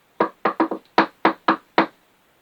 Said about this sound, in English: They heard a knock at the door.